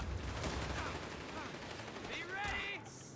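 Gunfire and explosions from the video game Company of Heroes 3, with a German mine and an anti-tank grenade against a bike, heard as scattered quiet shots and bursts within a dense battle mix.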